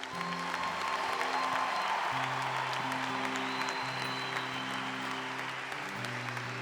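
A church congregation applauds during worship, a continuous moderate clapping spread over sustained keyboard chords that shift beneath it.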